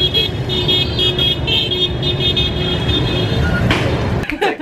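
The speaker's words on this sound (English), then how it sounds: "do you notice that they also honk with some rhythm?" Vehicle horns honk amid continuous Vietnamese street traffic, with a steady drone of engines close by and short toots that sound over the roar.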